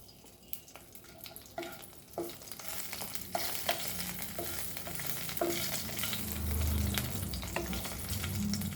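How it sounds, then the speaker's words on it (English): Whole spices fry in hot oil in a pan for a Goan chorizo pulao, a soft continuous sizzle broken by scattered clicks and scrapes of stirring, close and fairly quiet with no talk. "Let it fry for a little while"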